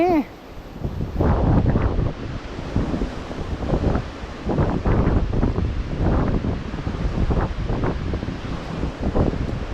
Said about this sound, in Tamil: பலத்த காற்று வீசுது